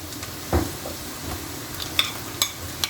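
Onions frying in a pan for tinda masala: a steady, close sizzle with a few sharp clinks and scrapes of a spoon stirring against the pan.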